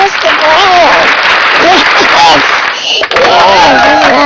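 Loud, dense hand clapping fills a morning poetry podcast in Nashville, Tennessee, continuing throughout while voices talk and call out over it.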